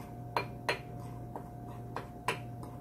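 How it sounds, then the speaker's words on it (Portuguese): Spoon clinking against a mug while rice flour and corn starch are mixed inside: five or six sharp, separate taps spaced irregularly, close up, with a steady low hum beneath and no talking. "Aí vou misturar"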